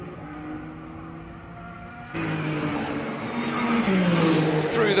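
A Ferrari race car engine rising in pitch as it accelerates down the straight at a Miami racing event, a loud sustained roar that grows stronger and closer.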